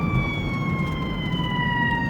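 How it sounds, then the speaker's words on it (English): A Brevard Rescue ambulance siren wails steadily along A1A in the aftermath of Hurricane Irma, a continuous, moderately loud tone holding without breaks and no voices over it. "Actually, this is an ambulance, Brevard Rescue."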